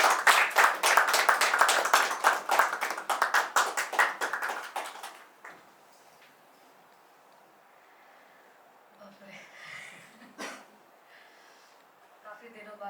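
An audience at a Hindi poetry gathering claps loudly for about five seconds before the applause dies away into quiet room tone with faint movement.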